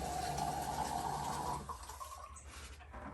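City tap water pours from a faucet into a glass, a close, gurgling stream that rises in pitch as it fills and then stops, leaving a quieter trickle.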